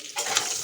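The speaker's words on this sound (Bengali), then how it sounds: "এখানে আলুগুলো ভেজে নিচ্ছি" Potatoes fry in a pan of hot oil for a Bengali mutton dish, a bright close sizzle that bursts in suddenly and holds steady, with faint stirring scrapes.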